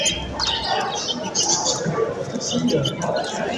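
Several caged canaries at a bird club's exchange fair chirp in quick, overlapping tweets, close and fairly clear, while people talk nearby in the busy hall.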